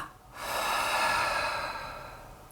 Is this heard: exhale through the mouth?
yes